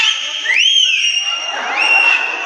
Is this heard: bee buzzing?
no